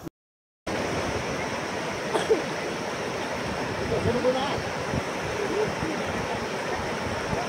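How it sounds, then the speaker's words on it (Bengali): A river rushes steadily beneath a suspension bridge in Arunachal Pradesh, a broad constant roar of flowing water. It starts after a short silent gap and stays even throughout. "আর জলের আওয়াজটা দেখুন।"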